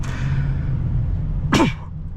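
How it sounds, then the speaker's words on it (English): A single sneeze bursts out near the end, loud and close inside the cab of a 2005 Chevrolet Avalanche 2500 during a drive, over steady low engine and road rumble. "Sorry, I had to sneeze."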